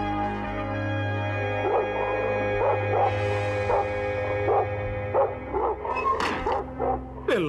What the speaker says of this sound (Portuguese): Por que vocês estão latindo?